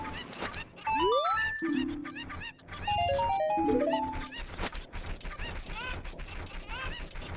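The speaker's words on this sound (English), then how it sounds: "we have vanilla chicken sounds, no horrific gasping" Chickens in a Zelda video game cluck and squawk in quick, repeated bursts over rising and falling tones of game sound, loud and close, with a short gap partway through.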